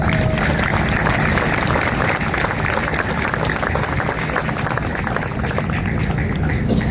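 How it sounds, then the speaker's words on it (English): A crowd gives steady, dense applause at an outdoor opening ceremony for a riverfront extension. The sound is loud and continuous, with no break throughout. "I want to give you a round of applause."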